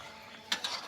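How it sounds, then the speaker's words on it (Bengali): A metal lid lifted off a pot of duck curry on the stove, giving a short clink followed by a second lighter scrape, close and fairly quiet. "এখন ঢাকনা খুলে দেখবো।"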